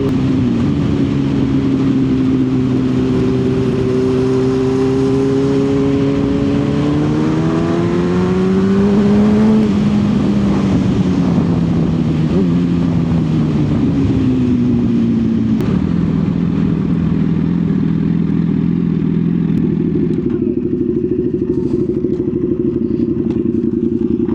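A Ducati Panigale sport bike engine runs loud and steady, its tone climbing and falling through several revs and gear changes as it rides, with no voices.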